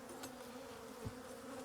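Honey bees buzz steadily and close around a beekeeper grafting queen cells after dark, a continuous droning hum with no voices.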